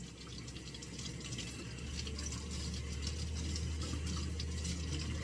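Running tap water splashes steadily over a toy doll being rinsed in a sink, a continuous close hiss of flowing water that grows slightly fuller midway, with no talking.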